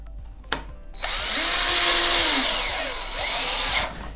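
A power drill drives 1/4-inch structural screws into a wooden joist during a repair, with a loud whirring run of about three seconds that rises and dips as the screw bites, following a sharp click.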